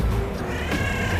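A cat meows loudly and close in a Jamaican countryside yard, with a drawn-out, wavering cry that nearly fills the moment and no talk over it.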